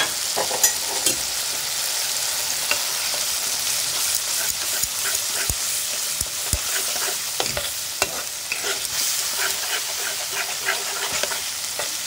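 Gram flour fries with spices in a pan, a loud steady close sizzle broken by frequent sharp scrapes and taps of a spoon stirring the mixture.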